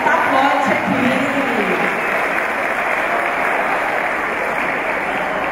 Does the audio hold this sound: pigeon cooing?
no